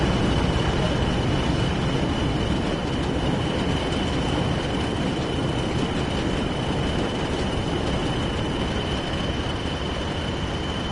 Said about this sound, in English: That's the mail train.